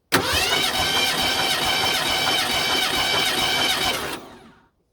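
A 1987 Mercury Cougar with 375k miles cranking on the starter during a compression test, a steady loud rhythmic churn lasting about four seconds and then stopping, with no talk.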